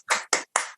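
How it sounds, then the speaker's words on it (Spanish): Participants in an online meeting of an Argentine political club clap through open microphones. Four crisp, close hand claps land at an uneven pace in under a second, with nothing else audible. "Que desmuteemos para que se oigan los aplausos, che."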